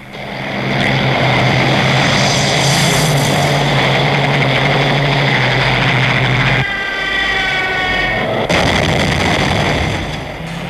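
Propeller fighter engines of Hurricane and Spitfire aircraft roar loud and sustained, a heavy droning rumble that cuts out abruptly before another engine pass resumes, with no voices.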